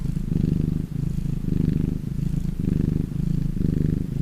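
Close, steady cat purring rumbles low and continuously, pulsing in a regular rhythm with each breath in and out.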